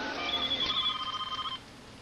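A telephone rings in a home during an emergency near a pool drain, one long bright electronic trill followed by a rapidly pulsing repeated ring, loud and close with no talking.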